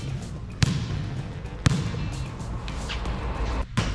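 Two sharp thuds of a basketball hitting a hard surface, spaced about a second apart, over a steady background hum, with a fainter knock near the end as the ball hits the rim.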